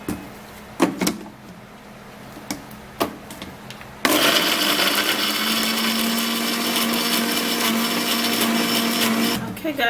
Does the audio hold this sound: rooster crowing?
no